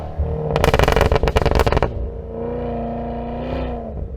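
Supercharged 6.2-liter V8 of a 2023 Cadillac Escalade V with AWD, crackling and popping loudly in a rapid burst of revs, then settling into a deep, steady idle burble with a slight rise near the end.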